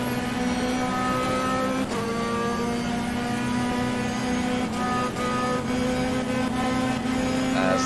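Onboard engine of a Zygon PGT race car in a sim racing game at Estoril, a steady, loud, sustained drone with slight pitch shifts and occasional sharp clicks.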